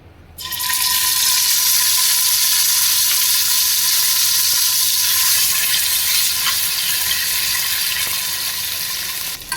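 Tomato hits hot oil with fried cumin in a pan, setting off a sudden, loud, continuous sizzle that holds steady and close for several seconds with no talking.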